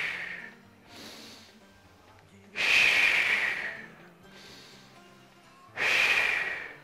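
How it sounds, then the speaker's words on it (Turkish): Deep guided breathing in a Turkish health talk show studio: three slow cycles, each a soft nasal inhale followed by a louder, rushing exhale through the mouth, the exhales standing out strongly in a quiet room. "Burnumuzdan alalım. Karnımız şişti, ağızdan verdik"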